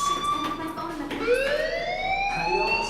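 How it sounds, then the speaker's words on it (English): Fire alarm in the Life Is Strange video game: a loud, continuous electronic wail whose tones sweep upward and hold, sounding steadily throughout with faint background noise beneath. "do you hear that fire alarm?"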